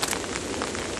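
Rain patters steadily onto leaves in the woods along the Casque-Isles Trail, a close, dense hiss of drops with a few brighter splashes, no voices.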